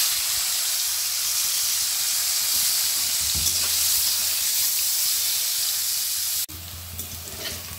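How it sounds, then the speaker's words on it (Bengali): Bitter gourd frying in hot oil in a pan, a loud continuous close sizzle with bubbling hiss, dropping in level near the end before carrying on. "এই তেলে আমি উচ্ছে কটা দিচ্ছি।"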